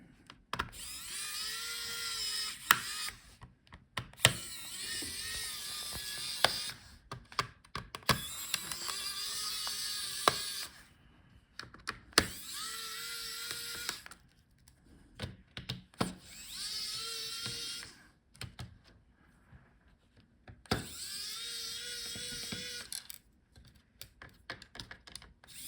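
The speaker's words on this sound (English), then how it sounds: "Unscrew all the screws." Small screws being undone one after another during a teardown of an Aorus 17 XE5 2022 gaming laptop, with bursts of fast whirring from an electric screwdriver separated by brief pauses, close and quiet.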